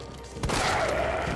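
A single sharp gunshot in the VR video game Resident Evil 3 Remake, a close loud crack followed by a short rumbling tail.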